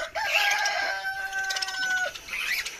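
A rooster crows in a chicken coop shared with guinea fowl, one long clear cock-a-doodle-doo near the mic followed by shorter clucking calls.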